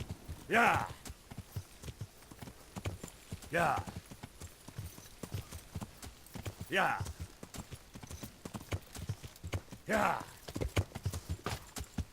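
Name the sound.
horse hooves walking, from video game Kingdom Come Deliverance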